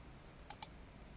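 Two quick, sharp mouse clicks in close succession, faint and isolated against a quiet room.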